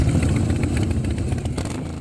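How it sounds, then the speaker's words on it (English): Several motorcycles rev loudly together at a charity ride, a dense, close rumble of engines swelling and dipping with clattering mechanical texture. "With engines revved"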